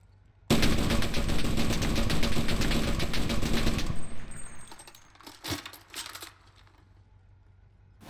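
Rapid automatic gunfire from a light machine gun in a World War II shooter game, a dense sustained burst for about three and a half seconds, followed by scattered fainter shots and clatter fading out.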